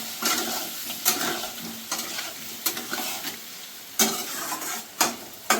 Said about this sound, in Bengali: এবার আমি মশলাটাকে একটু ভালো করে কষিয়ে নেব